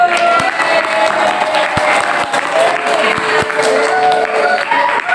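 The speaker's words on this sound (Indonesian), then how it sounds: "tepuk tangan dulu" Steady applause from a crowd in a classroom, many hands clapping together for several seconds without pause.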